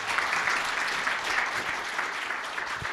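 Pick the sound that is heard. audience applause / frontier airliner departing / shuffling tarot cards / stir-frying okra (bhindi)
audience applause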